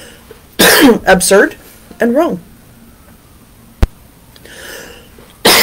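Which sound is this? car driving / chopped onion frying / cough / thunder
cough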